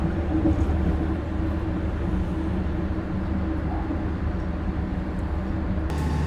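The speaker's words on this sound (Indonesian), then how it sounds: "saat ini kereta api Joglo Semarkerto telah tiba di Stasiun Kedung Jati" Joglo Semarkerto passenger train pulling into Kedung Jati station, a low rumbling drone of wheels and engine heard steadily and fairly quietly, with no voices.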